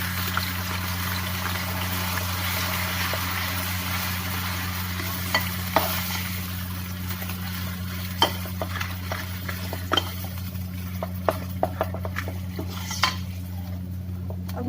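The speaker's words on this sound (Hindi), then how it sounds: "अब इसमें ये मैं भीगी हुई सूजी डाल दूंगी और इसको तेज तेज चलाना है" Soaked semolina poured into hot ghee with swollen cardamom pods and stirred briskly, giving a steady low sizzle under scattered scraping clicks and spoon taps against the pan.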